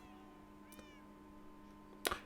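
Cats meowing in the Minecraft video game, one soft meow early on and a sharper, louder meow near the end over a low steady hum.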